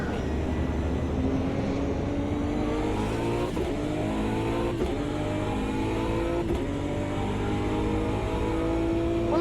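A heavy race car engine in a driving video game revs hard and loud throughout, pitch climbing through gears with brief dips at each shift, no talk over it.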